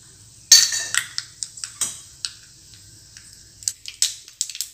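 Mustard seeds spluttering and popping in hot oil while tempering a beetroot pachadi, with sharp irregular crackles and pops scattered over a faint low background hum.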